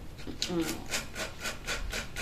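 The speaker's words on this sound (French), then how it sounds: "Le bruit de la scie." A hand saw rasps through wood in quick, steady back-and-forth strokes, close and moderately loud, with no talking.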